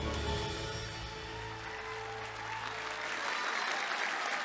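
A ballroom crowd at a Hawaii political debate applauds steadily and loudly throughout, a dense wash of clapping with a low hum underneath fading out near the end.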